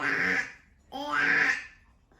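A voice imitates a duck with two nasal, drawn-out quacks in quick succession, close and fairly loud, separated by a short pause.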